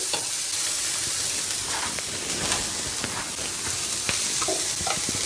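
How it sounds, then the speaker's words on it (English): Shredded carrot sizzling in a frying pan over a medium flame while being stirred, a steady hiss broken by irregular scraping and clinking strokes from the spoon, close and continuous. "Keep stirring it on medium flame."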